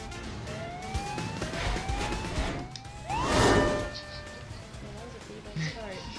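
Police car siren in the racing video game Toybox Turbos, rising wail sweeps repeating over busy game engine noise and effects, with a player talking over it.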